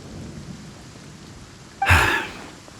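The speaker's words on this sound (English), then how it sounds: "The rain won't slow me down." Steady rain patter from the video game Genshin Impact with a sudden loud burst of thunder-like crash near the end, fading out over the last second.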